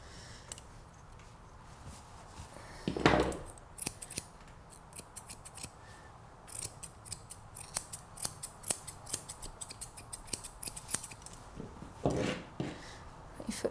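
Scissors snip through a Labradoodle's coat during grooming, giving quiet, close, rhythmic clicks in quick runs, with a couple of louder brushing rubs between them.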